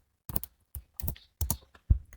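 Computer keyboard typing code: a quick, uneven run of distinct key clicks in short bursts, close and fairly quiet, with near silence between strokes.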